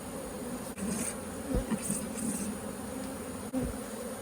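Honeybees buzz in a steady, dense drone close by, with a few individual bees flying past the microphone.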